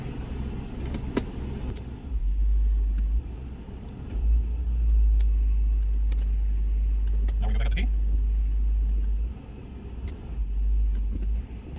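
A 2000 Lexus LX470 engine idles with a steady low rumble while the transmission is shifted slowly through the gears, with brief clicks from the shifter and someone talking over it.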